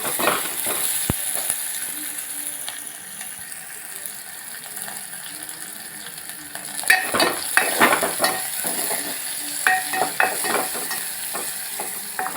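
Onion and garlic sizzle steadily in a hot pan while a utensil stirs and scrapes, with clattering stirs growing busier partway through.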